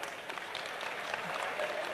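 A large crowd under a pandal at a Hindu religious gathering marking daughters' wedding farewells applauds steadily, dense clapping sustained throughout without pause.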